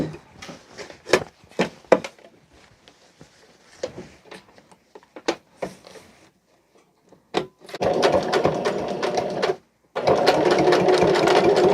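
A sewing machine stitches curtain fabric: scattered clicks and handling sounds come first, then two close, steady bursts of rapid stitching, separated by a brief pause.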